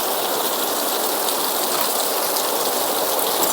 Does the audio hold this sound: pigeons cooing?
no